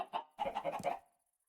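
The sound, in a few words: chickens clucking in Minecraft video game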